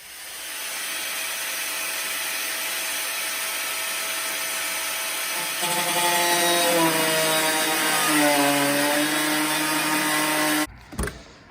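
An angle grinder cuts metal on a 1980s Toyota Hilux pickup: a loud, steady high whine runs for about ten seconds, its pitch sagging and wavering as the disc bites, then cuts off abruptly with a brief clatter.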